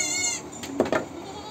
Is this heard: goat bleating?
yes